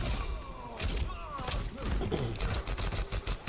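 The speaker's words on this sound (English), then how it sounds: "That rapid fire is gonna be fun." Rapid-fire gunshots from the character Striker in the fighting game Mortal Kombat 1, heard as a quick burst of thudding shots mixed with game effects and some voice.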